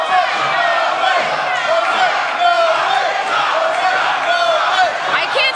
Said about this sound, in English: I can't tell who this crowd is more into. Are they yelling for the cha-cha?